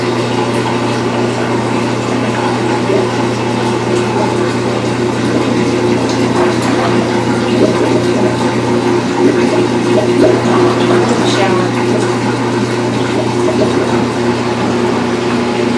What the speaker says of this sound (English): This is draining the washing machine.